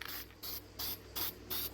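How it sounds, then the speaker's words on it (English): Short bursts of copper gasket sealant aerosol sprayed onto a thick head gasket in a shed, part of a Hatz diesel engine being converted to run on wood gas; four even hissing spurts with brief pauses between, close and moderately loud. "I'm gonna spray this thicker head gasket with copper spray gasket sealant"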